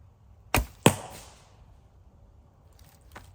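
Two sharp arrow impacts from a hickory bow strike a foam deer target outdoors in the woods, each a crisp thwack with a short tail, followed by quiet and a faint distant knock.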